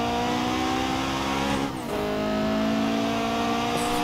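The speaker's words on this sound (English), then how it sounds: "You can hear that turbo just start eating this." A 700hp turbocharged Spoon Honda Civic coupe engine revs loudly and steadily in a racing game, with a brief dip in pitch midway before climbing again, continuous and close.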